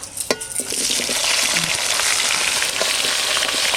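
Young jackfruit and potato pieces drop into hot oil with a sharp burst, then a loud, steady sizzle and crackle fills the rest, with a few scraping stirs near the start.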